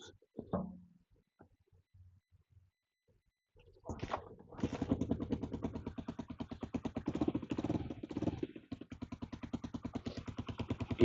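An old dirt bike found in a garden, being brought back to running, starts with a few coughs and then settles into a steady, fairly quiet idle with a rapid even putter.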